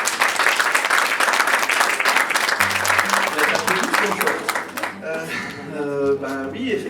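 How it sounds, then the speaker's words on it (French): Audience applause at a French festival event as a speaker is introduced on stage, a dense clapping wash that thins after a few seconds while musical tones and a voice emerge over it. "Sous vos applaudissements"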